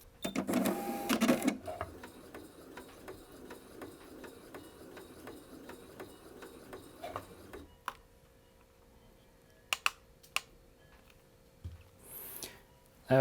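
A Singer Quantum Stylist 9960 sewing machine stitching at slow speed gives a steady, evenly spaced mechanical ticking for several seconds, close and clear. A loud burst comes at the start, and a few sharp clicks and knocks follow once it stops.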